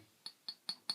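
Four light, evenly spaced glassy clinks as a glass aftershave bottle with a metal cap is handled, close and quiet.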